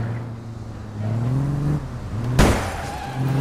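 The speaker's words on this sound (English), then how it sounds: "I'll take my tank out to crush their vehicles" A tank engine in a video game drones steadily with rising and falling pitch as it drives, broken by one sharp crunching impact partway through.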